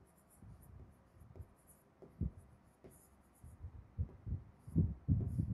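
A pen writes a formula on paper during an economics lesson, giving soft, close scratching strokes in short bursts with brief pauses, faint and without talk.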